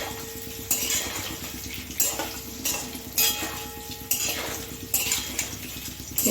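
Paneer pieces dusted with a little flour frying in a kadai until reddish-brown, with a steady sizzle of hot oil broken by regular metal spatula scrapes and clanks against the pan, no voices.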